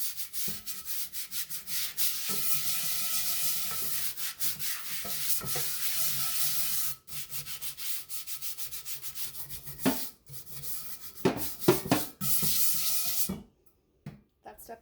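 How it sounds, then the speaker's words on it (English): Scrub brush working soapy water over a cast iron pan: continuous close bristly rubbing in steady strokes, broken by a few short pauses and a brief quiet gap near the end. "So a little water, a little soap, a little scrub brush. I'm gonna pick this up and just scrub like any other dish."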